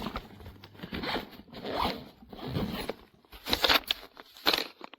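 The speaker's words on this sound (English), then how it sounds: "when all of this is zipped up" A zipper on a 28-litre insulated backpack cooler for 38 cans is pulled closed in several quick, close zips. Short bursts alternate with brief pauses, and the last strokes are louder.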